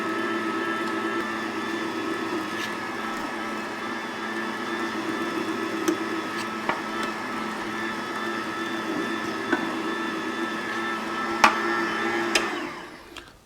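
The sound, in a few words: Cabela's Deluxe meat grinder grinding venison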